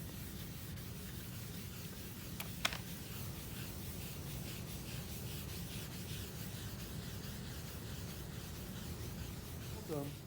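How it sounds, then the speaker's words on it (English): Cotton rubbing gum arabic across a litho stone in a printmaking studio, a steady soft scrubbing hiss held at even level, with a couple of faint clicks partway through. "But I can't rub too hard. I don't want to scratch through the gum."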